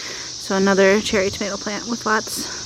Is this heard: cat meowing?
no